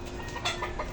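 A chicken clucks in a brief close burst over steady background noise.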